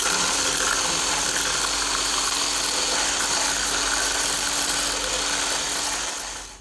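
Electric beater whipping cream cheese cubes with sugar for a mango kunafa pudding, a loud steady motorized whir with gritty rattling that runs continuously and then winds down at the end.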